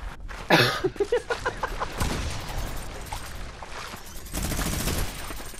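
Gunfire in the video game Fortnite: a loud burst of rapid shots, then a dense continuous stretch of firing and explosive noise, close and harsh, with no clear talking.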